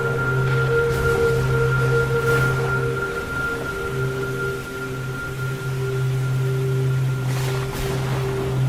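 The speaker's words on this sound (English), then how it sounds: "I am experiencing hard waves on all sides" Storm-driven high waves surge around the warship USS Watertown at sea, a steady, loud wash of water under a sustained low drone, with a few brief bursts of spray breaking through.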